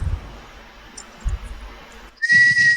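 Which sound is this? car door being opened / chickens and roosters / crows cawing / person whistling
person whistling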